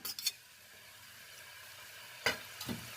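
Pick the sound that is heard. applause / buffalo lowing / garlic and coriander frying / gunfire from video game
garlic and coriander frying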